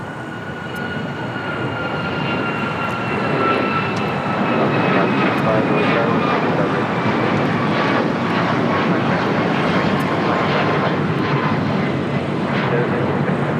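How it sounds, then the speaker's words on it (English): United Airlines Boeing 737 MAX 9 taking off from LAX, its steady jet roar building and holding loud over a broad rumble, with faint voices talking underneath. "This is United Airlines 1910 taking off to Cleveland on a MAX 9."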